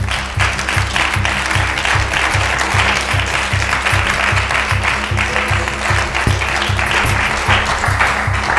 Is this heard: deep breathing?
no